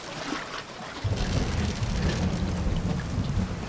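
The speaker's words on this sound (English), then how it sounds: "It's raining." Heavy rain pours down around a boat in the video game Bioshock Infinite, a dense, continuous hiss with a low rumble like distant thunder that swells after the first second and stays steady.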